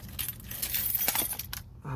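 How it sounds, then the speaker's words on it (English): A bunch of keys falls and jangles near a car during an oil change on a 2015 Jeep Wrangler, with bright metallic clinks and rattles in bursts before a brief low clunk at the end. "I got keys falling all over the place."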